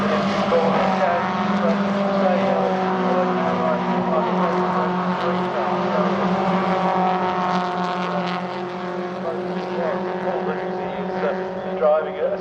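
MG ZR racing cars roar past one after another at Silverstone, engines whining at high pitch with shifting tones, loud and continuous, with commentary voices underneath.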